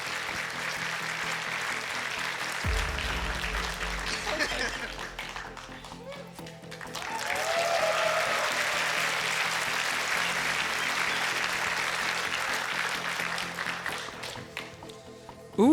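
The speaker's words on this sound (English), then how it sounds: "Give a round of applause to Llew, our producer." A convention crowd at a furry song contest applauds at length, a sustained roomy wash of clapping that dips and swells again, with voices talking over it.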